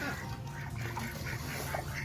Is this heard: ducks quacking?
yes